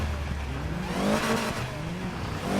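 A car engine in the Need for Speed Heat racing game revs hard while climbing into sixth gear near top speed, a loud, continuous rising roar with steady pitch sweeps and no talk over it.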